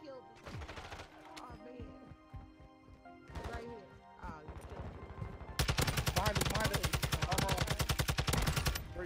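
TAQ 56 assault rifle firing in the Warzone 2.0 video game on Ashika Island, a few short bursts followed by a long sustained rapid-fire stream, loud and close, with other combat noises between bursts.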